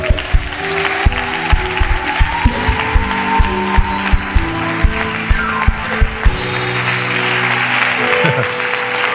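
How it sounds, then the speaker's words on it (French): Church congregation at a Sunday service clapping loudly and rhythmically in unison with crowd cheering, a steady beat of claps that fades into lingering crowd noise and voices. "Est-ce qu'on peut acclamer le Seigneur?"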